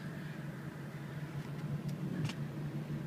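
A 2005 Chevrolet Silverado Duramax diesel pickup, a theft recovery with a damaged ignition, rumbles steadily as it pulls away, a low continuous engine drone close by with no talking.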